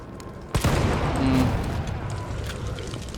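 Gunfire in the Resident Evil 3 demo video game: a sharp loud burst hits abruptly, then dense, sustained rattling shots and rumbling blasts fill the rest of the moment.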